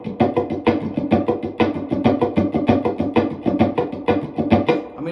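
Funk rhythm guitar strummed nonstop in E with no fingerboard muting, a fast, busy, loud stream of ringing chordal strokes in tight rhythm, heard alone.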